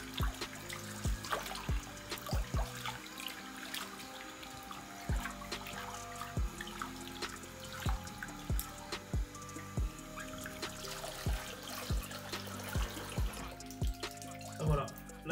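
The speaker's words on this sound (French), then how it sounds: "tu prends ton robinet et tu mouilles" Water from a bathroom tap runs and splashes while curly hair is wetted under it with shampoo, a steady close trickle broken by irregular clattering splashes.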